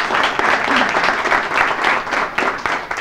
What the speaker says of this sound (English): Round of applause for Amanda Brennan.